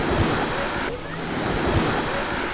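Sea waves and wind rush steadily around a boat on a sea trip to Sazan and Karaburun, a broad continuous wash with no clear speech over it.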